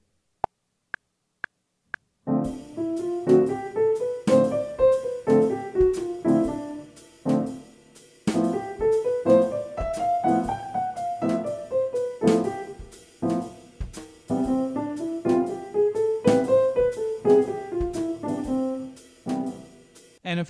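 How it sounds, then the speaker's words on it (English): Jazz piano lesson playing with a drum backing track: four count-in clicks, then rhythmic swung piano chords with a rising and falling bass line over the drums, steady and close with no voice. "if we were to play that with the drums backing track that comes with the lesson"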